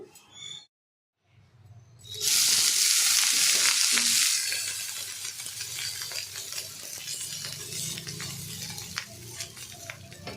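Dosa batter hits a hot pan with a loud, bright sizzle that starts abruptly and keeps crackling steadily, with a few light utensil clinks near the start.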